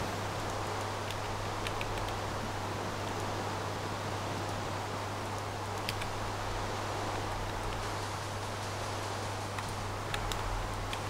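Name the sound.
rain falling in a video game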